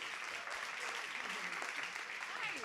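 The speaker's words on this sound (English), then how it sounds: "Give him a warm applause." Warm audience clapping for a student singer at an arts school awards ceremony in 2021, a brief even burst of applause from a seated crowd with a voice speaking over it.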